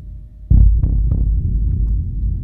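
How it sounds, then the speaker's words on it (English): A low, distorted, subby kick drum from the Sample Logic Rumble instrument, layered with a loop, hits hard with booming thumps that fade into a sustained rumbling low drone. "distorted but subby kick sound, and I've layered it with this one loop"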